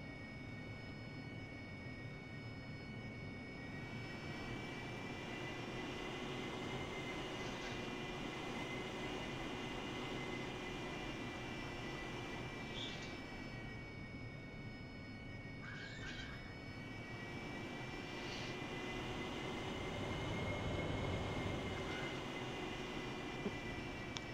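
A Harrier jet on a forward arming and refueling point in a flight simulator, its engine a steady, even roar and whine that holds without a break from start to end.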